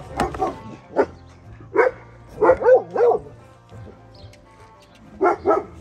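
A few dogs bark in short, separated bursts, some yelps paired closely together, fairly near, with a low hum and some background voices.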